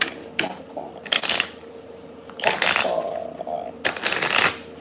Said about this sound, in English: I just wanted to give it a nice ruffle shuffle.